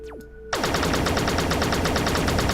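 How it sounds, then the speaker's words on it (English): Sudden heavy automatic gunfire in a video game, a fast continuous stream of loud, close shots that bursts in after a brief quieter moment and keeps hammering without pause. "We're being shot at."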